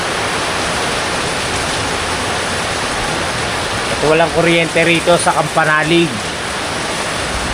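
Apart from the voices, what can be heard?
heavy rain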